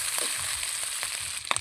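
Meat frying in a pan for igado while being stirred, a steady broadband sizzle with scraping stir strokes and a few sharper clinks near the end, no talking.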